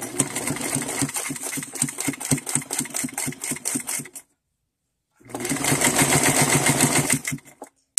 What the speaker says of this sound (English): I have it set on a basic straight stitch, and just going to start sewing